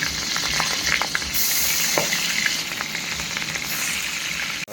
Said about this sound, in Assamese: এতিয়া পিঁয়াজ জলকীয়াটো ভাজি লওঁ চব্জি বনাবৰ কাৰণে।